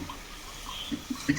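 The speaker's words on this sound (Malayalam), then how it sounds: "വെള്ളം ചേർത്തു" Water is added to a pan of fish curry with tamarind, making a brief, soft liquid trickle with a few gentle splashes against quiet background noise and no speech.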